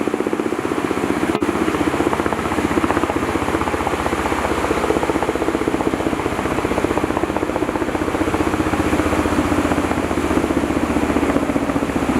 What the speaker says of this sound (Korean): 헬기가 헬기가 왜 날아다니지?